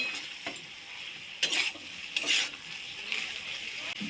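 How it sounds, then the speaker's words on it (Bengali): Mustard paste and cumin sauté in a pan with a soft sizzle, broken by several sharp scraping stirs of a utensil against the pan at uneven intervals. "জিরে গুঁড়ো দিয়ে ভালো করে কষিয়ে নেব"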